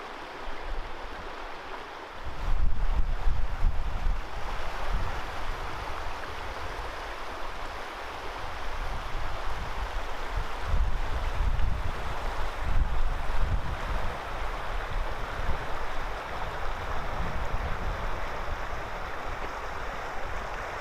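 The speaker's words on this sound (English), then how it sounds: "This is the Paria River flowing down out of the canyon" The Paria River flows down out of a canyon in Bryce Canyon National Park, a continuous rushing wash of water, fairly loud and steady, with some wind buffeting the microphone.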